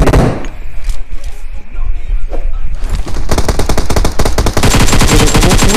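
Groza rifle spray firing in the mobile battle royale BGMI: a scattered shot or two, then long, rapid bursts of automatic gunfire, loud and close, with a few muffled voices in the background.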